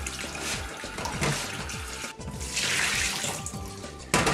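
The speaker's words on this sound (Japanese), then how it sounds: "この殻を剥いたエビを、なんか水洗いとかして、こう、臭みをね、取るって感じです" Peeled shrimp rinsed under a running kitchen tap, a steady close rush of water with splashing and handling sounds, continuous without speech.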